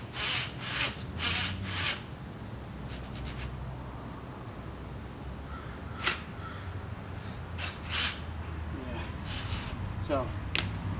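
Hand reaming of a hole in the hull of a 1964 Correct Craft American Skier boat, the tool pushed in and out in a close, repeated scraping and rubbing rhythm with short bursts and pauses.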